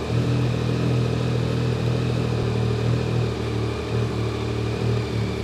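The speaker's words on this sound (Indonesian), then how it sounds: "Suaranya ternyata agak-agak menggema empuk ya. Ini dengan knalpot standarnya." A motorcycle engine with its stock exhaust idles with a steady, deep, resonant rumble, close and loud throughout, with no voices.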